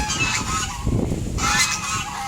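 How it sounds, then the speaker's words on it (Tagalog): Several geese honk loudly and repeatedly, their harsh calls overlapping close by. "Nangiingay ng mga gansa at mga bibe."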